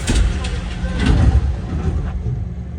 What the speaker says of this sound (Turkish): Burada bir çöp kamyonu var.